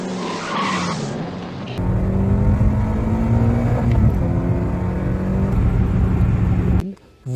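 A Citroën Saxo VTS revs hard and accelerates to overtake, its engine note climbing loudly through the gears with some tyre noise, before cutting off abruptly near the end.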